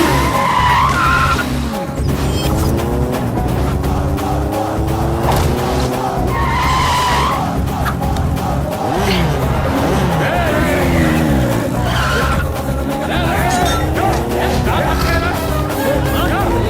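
A motorbike races away at high speed during a chase in an action film scene, with loud continuous engine roar and tyre skids throughout, mixed under film dialogue and music.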